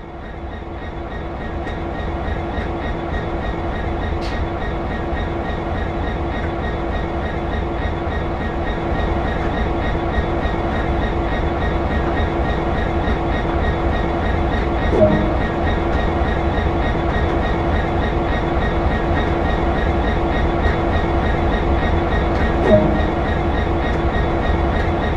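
A freight train in the Train Sim World video game reverses slowly with its wagons through a discharge facility. A steady, continuous rolling rumble carries faint rhythmic wheel clicks and occasional metallic clanks, with no speech.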